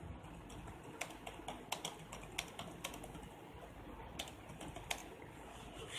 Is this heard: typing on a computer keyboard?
yes